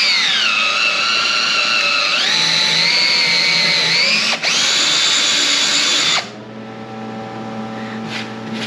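A power drill bores a hole into a Ski-Doo TS ski for a carbide runner, its loud, close whine shifting in pitch as speed changes, then cutting off and leaving a faint hum.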